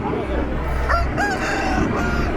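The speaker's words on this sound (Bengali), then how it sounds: "এই মুরগিটা দেখুন" Chicken at a rural livestock market, several short clucking and crowing calls over a continuous background of crowd murmur and talk.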